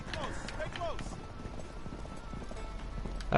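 Horse hooves clip-clop in a quick run with a short whinny in Uncharted 3, heard at moderate volume beneath a person talking over the gameplay.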